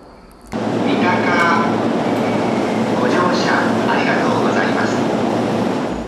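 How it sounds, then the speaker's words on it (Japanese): The first early-morning commuter train of the day, an all-stations service bound for Tokyo, pulls in and stands at a station platform, giving a loud, steady rumble and hiss of the idling train that fills the clip after a brief quiet start. "一番電車が停車すると"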